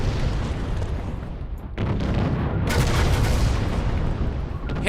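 Ship cannon fire in Treasure Planet: Battle at Procyon: heavy, loud booming blasts layered over a constant roar of battle noise, with a sharp burst near the middle, close and dense with no talking.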